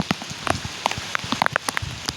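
Heavy rain lashes down outdoors with wind, a dense patter of close, irregular drops striking a surface loudly, heard alone without voices.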